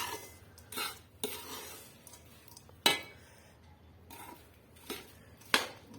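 Jaggery being mixed by hand or spoon into a warm gond laddu mixture in a pan, giving soft scraping strokes and a few sharp clinks of metal at irregular intervals, fairly quiet.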